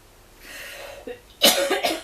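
A chronic cough: a soft throaty lead-in followed by a loud, close, harsh cough in two quick bursts.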